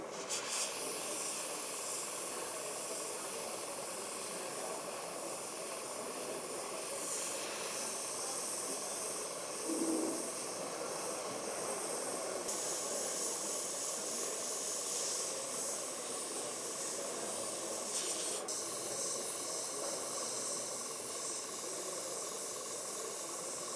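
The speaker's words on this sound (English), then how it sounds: "Some airbrush works fine with less pressure, and some airbrush models need more pressure." Airbrush spraying paint, a continuous soft hiss with slight changes in pressure and a few small shifts partway through, close and steady with no talking.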